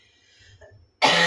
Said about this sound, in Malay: Kan dah batuk.